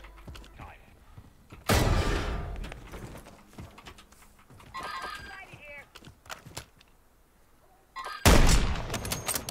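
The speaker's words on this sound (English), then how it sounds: "I'm getting shot at. I don't know where from." Gunfire in the Warzone video game comes as two loud, sharp bursts of shots with scattered smaller cracks and mechanical clatter between them. A voice is heard in the mix.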